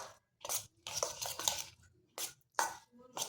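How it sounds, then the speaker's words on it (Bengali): A spoon working kadam phool pitha dough mixed with hot water and a little salt, short bursts of scraping and clinking against the bowl in an uneven rhythm with brief pauses, close up and without voices. "এই যে আমি একটু করে গরম জল দিচ্ছি, আর এটাকে মাখতে থাকছি একটা চামচের সাহায্যে।"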